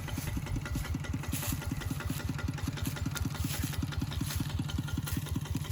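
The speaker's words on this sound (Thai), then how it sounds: "นี่ก็เป็นรถไถที่ผมไถนะครับ" A walking tractor engine chugs steadily and loudly throughout, a fast regular pulse with a little rattle, while it plows rice stubble and straw in a paddy field with a moldboard plow.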